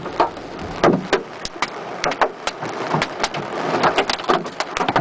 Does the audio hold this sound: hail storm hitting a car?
yes